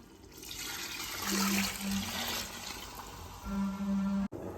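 Hot water pours into a pot of rice for mutton biryani in a steady, gurgling stream that swells and fades, close by, with no voices.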